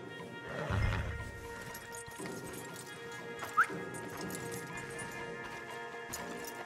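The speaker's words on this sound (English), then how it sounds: "Javier, you're gonna lead the stallions." Horses in Red Dead Redemption 2 clip-clop at a slow walk, stallions being led by rope, with one short neigh partway through over a steady outdoor game ambience.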